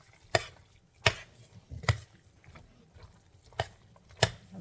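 Beer brats stirred together with pasta in a warm pot: five or six sharp scraping knocks of a utensil against the pan at irregular intervals, with a soft low clatter between them, close and fairly quiet, no voices.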